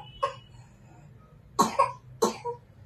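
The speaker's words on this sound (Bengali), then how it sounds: "দেখছো কাশিটা কমছে না" Young girl coughs indoors, one short cough followed after a pause by two harsher, double-pulsed coughing fits, close and clear over a low background hum.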